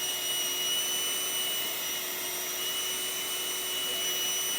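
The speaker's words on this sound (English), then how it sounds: "we were now pulling so fast through the dust collection system that we maxed out my little anemometer at the 4-inch gauge" A workshop dust collection system pulls air hard through a 4-inch duct, giving a steady, loud broadband roar with a faint whine and no change in level over the few seconds.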